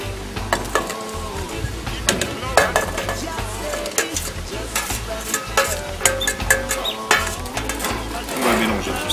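Tabbouleh with fresh herbs, citrus and cashew nuts being mixed in a bowl, with a close, continuous rustling of utensils and occasional clinks.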